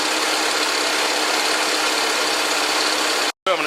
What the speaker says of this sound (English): You can hear that puttering coming back.